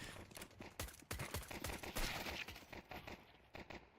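Gunshots in a Counter-Strike esports match during a pistol round, a rapid scatter of sharp cracks fired in quick bursts, with a thicker cluster in the middle and sparser shots toward the end.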